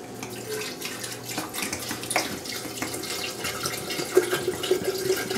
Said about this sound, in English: we fill it up, the pitcher.